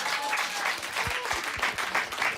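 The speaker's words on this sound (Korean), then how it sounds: "박수 치실 일은 아닙니다." Studio audience applause on a Korean talk and briefing show, a dense, steady wash of clapping from a crowd that carries on throughout at moderate loudness.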